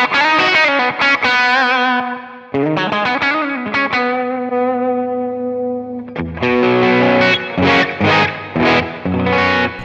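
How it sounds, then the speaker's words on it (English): Electric guitar run through a treble boost on a Strymon overdrive and HX Stomp rig, bright sustained notes and chords played alone for about ten seconds, loud and close, with chord strums and ringing single notes. "You can hear how it pushes the treble here."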